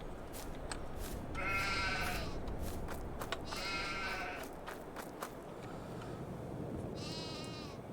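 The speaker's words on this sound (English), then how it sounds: "Sheep probably need feeding." Sheep bleat in the video game Farming Simulator 22, three clear drawn-out bleats spaced across a steady farmyard background noise.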